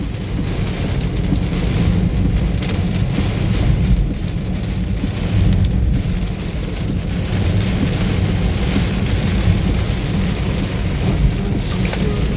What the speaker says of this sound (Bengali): বৃষ্টি হচ্ছে, দারুণ দারুণ বৃষ্টি দর্শকবৃন্দ